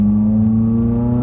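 A Nissan R34 Skyline's engine drones steadily off boost, a low, even hum with a strong tonal note, close and continuous for a brief moment with no talking.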